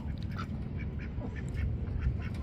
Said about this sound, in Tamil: எங்கள் வீட்டில் 3 பொட்டை வாத்து நிற்கிது